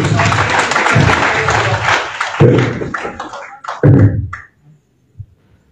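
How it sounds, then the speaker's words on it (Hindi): An audience at a training programme in Delhi claps loudly for several seconds, the applause thinning into scattered claps before fading out to near silence with a last stray clap. "एमडी से जोरदार ताली हो जाए सर के लिए।"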